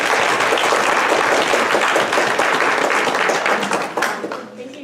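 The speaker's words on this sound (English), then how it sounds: "Can I get a round of applause for all of you?" An audience at a school board candidate forum gives the participants a round of applause, with dense steady clapping that fades out near the end.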